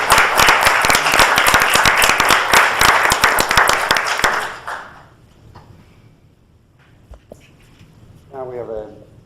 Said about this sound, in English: So let's give you another round of applause,